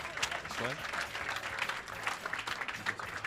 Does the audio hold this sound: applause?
yes